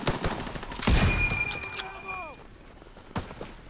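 A shotgun fires while the player is running in Call of Duty WWII, a multiplayer team deathmatch in the Ardennes Forest: a few sharp, booming blasts amid game effects and footsteps.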